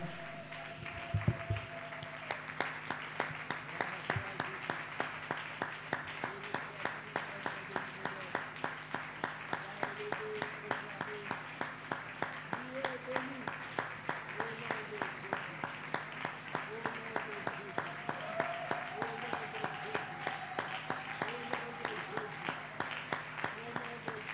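A church congregation claps together in a steady, rhythmic beat for over twenty seconds, with voices singing and calling out over the clapping.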